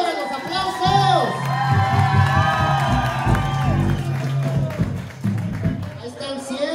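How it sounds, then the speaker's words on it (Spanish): A crowd of partygoers at a birthday celebration cheers, whoops and claps for a sponsor, with children shouting and voices rising over the noise throughout. "Que salgan los aplausos"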